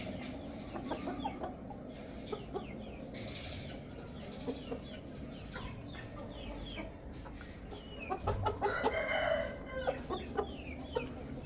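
Young rooster, about eleven months old, clucking in short bursts close by, with wing flapping and a louder flurry of activity near the end, in a noisy outdoor setting.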